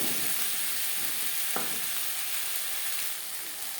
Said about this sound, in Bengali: মিডিয়াম ফ্লেমে 4-5 মিনিট মশলার সাথে বেগুন রান্না করে নেব।